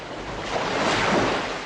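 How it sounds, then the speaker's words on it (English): Ocean waves make a steady, broad wash of surf that swells a little in the middle, with some wind noise mixed in and no voices. "I just love the salt water and just the sound of the waves."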